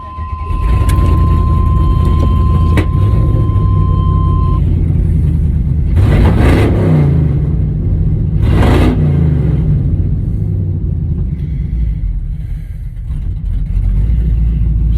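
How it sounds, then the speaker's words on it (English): An LS-swapped short bed OBS Ford truck engine cranks, catches and settles into a loud, steady idle rumble, with a couple of brief throttle blips partway through. "let's start it up. This is the LS swapped short bed."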